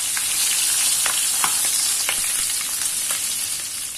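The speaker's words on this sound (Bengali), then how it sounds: "আমি এখানে নর্মালি ভেজে নিচ্ছি।" Tiger prawns frying in mustard oil in a wok for a Bengali coconut prawn curry, giving a steady, bright sizzle with scattered sharp pops and crackles throughout, close and alone without any voices.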